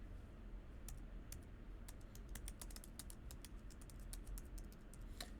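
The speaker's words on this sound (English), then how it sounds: "I'll go ahead and type the close bracket right away." Keys tapped on a computer keyboard to type a closing bracket while coding a for loop: a quiet run of scattered, uneven clicks at close range, with no talking.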